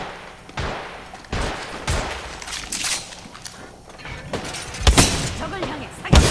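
Apex Legends gunfire in bursts of sharp cracks, several close shots spread across the clip with the loudest near the end, mixed with game effects and some voice chatter.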